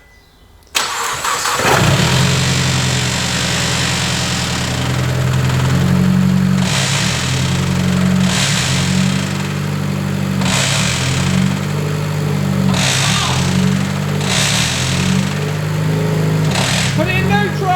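A car engine cranks and catches, then runs steadily while parked, with a strange gearbox whine and rhythmic surging noise from the transmission in park, loud and continuous, with voices talking briefly over it.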